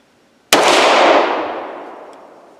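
A single loud, sharp gunshot from a PSA Rock 5.7 pistol at close range, ringing out and decaying over about two seconds, with no voices.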